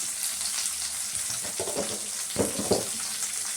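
Curry leaves sizzle and crackle in hot oil in a pan, a steady dense fry with a few brief louder bursts of spattering toward the middle; no one speaks.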